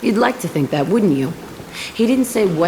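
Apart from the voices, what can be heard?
No everyday noises stand out.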